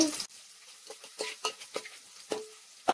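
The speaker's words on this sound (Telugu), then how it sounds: "ఉల్లిపాయలు బాగా గోల్డ్ కలర్ వచ్చేదాకా వేపుకోవాలి" Onions fry in hot oil with whole spices for masala rice. Close, intermittent scrapes of stirring sit over a faint, soft sizzle, with short pauses between strokes.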